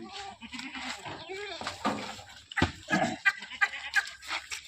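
Goats bleat at a goat farm, several calls close by mixed with people talking over them.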